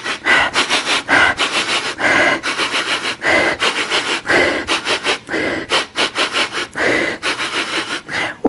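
A person sniffs camera gear up close, giving a long run of quick, loud, rhythmic nasal sniffs with brief pauses between them.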